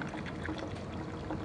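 Hot water from a satellite coffee brewer pours steadily into the basket, dissolving a cleaning tablet and draining into the satellite below, a continuous close splashing trickle.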